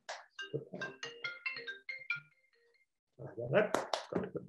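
A mobile phone ringtone goes off during a seminar talk, a short melodic run of bright tones between spoken words, then the speaker resumes talking.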